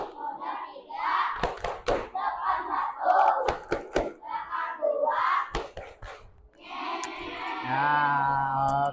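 Classroom of students performing a rhythmic group clap pattern, sharp synchronized claps punctuating loud chanting voices, ending in a burst of cheering.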